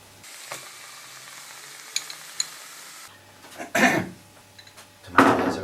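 Tomatoes drop into a pan of browned meat and start a close, crackling sizzle, with two bursts of louder hissing and stirring over a quieter frying background and a few light utensil taps.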